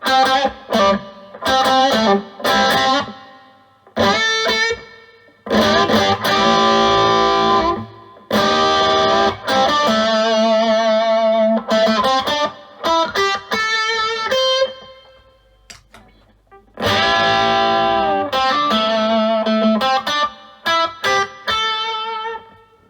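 Electric guitar through a Mooer Hustle Drive pedal with a touch of reverb, playing a loud, choppy overdriven riff of short chord stabs and single notes separated by brief silences.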